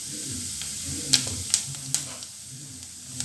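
Mustard seeds splutter in hot oil: a soft steady sizzle broken by a few sharp pops about half a second apart, close by.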